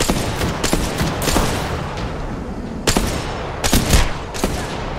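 Rapid bursts of automatic weapon fire from the Apex Legends battle royale game crackle loudly and continuously, with sharper distinct shots standing out at intervals over a dense firefight.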